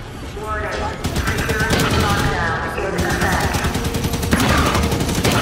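Gunfire in the Halo 5 campaign, dense rapid bursts of automatic fire throughout, loud and close, mixed with game voices and effects.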